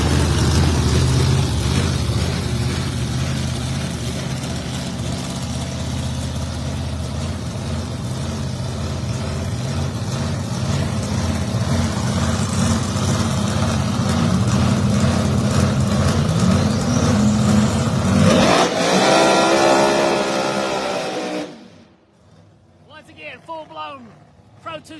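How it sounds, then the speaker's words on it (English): A Roots-blown, tube-chassis Ford Mustang drag car idles loud and close at a drag strip, its engine note rising as it revs, then cutting off abruptly near the end as faint sounds remain. "Tube chassis. Roots blown Ford Mustang."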